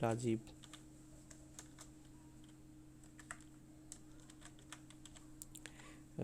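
Keys clack on a computer keyboard as a name is typed into an Excel spreadsheet, a brisk run of light, close taps with short pauses between bursts, with a brief voice at the start and end.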